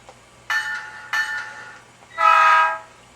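Horn of a Bowser MLW C630M model locomotive in Canadian National livery: two short, bright blasts followed by one longer blast, close and loud over a faint background hum.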